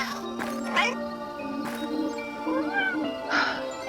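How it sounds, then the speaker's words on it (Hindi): A plump cartoon cat in an animated Hindi fairy tale lets out several drawn-out, wavering meows, clear and close, spaced across a few seconds over a soft musical background. "गोल मटोल बिल्ली प्रकट हुई और उसने डायना को खतरे से बचा लिया"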